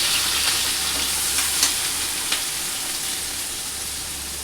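Onions and green chillies frying in hot oil for an egg and potato curry, a dense, even sizzle with a few soft stirring clicks, close and loud throughout.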